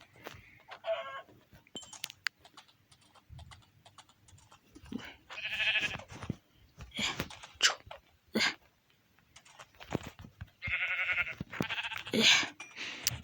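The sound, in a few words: black sheep bleating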